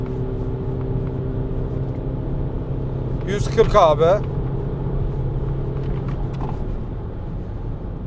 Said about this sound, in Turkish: Evet bu şekilde bir hızlanmasının olduğunu söyleyeyim dizel makineyle beraber.